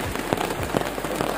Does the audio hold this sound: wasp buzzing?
no